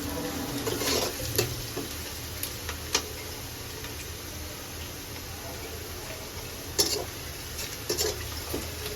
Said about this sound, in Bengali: পেঁয়াজটা একটু হালকা ভেজে নিই আর একটু ভাজা হবে একটু বাদামি বাদামি হবে